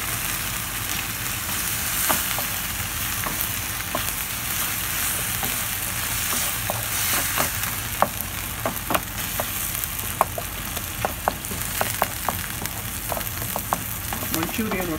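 Hot and sour tofu manchurian sauce sizzles steadily in a pan over a medium flame, a close, continuous fizzing crackle with scattered sharper pops and spits.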